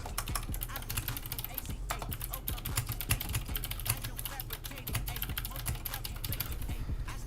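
Rapid, steady keystrokes on a computer keyboard continue close up for several seconds over a low background hum as trading notes are typed.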